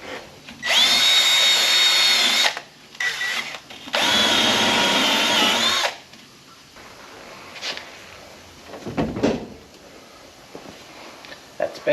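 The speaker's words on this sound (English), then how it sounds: "I might have to give that pad a clean, I think. Bit of a wire wheel." A wire wheel cleaning a brake pad on an ex police Falcon panel van: two bursts of high, whining power-tool spin, each lasting a couple of seconds, followed by quieter handling clatter and faint talk.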